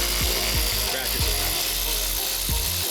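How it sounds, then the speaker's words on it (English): Hand ratchet turning out the airbox screws on a truck, with a rapid clicking pawl heard close up in several quick bursts over a steady background hum. "decided to switch to a ratchet because this is just taking way too long with a screwdriver"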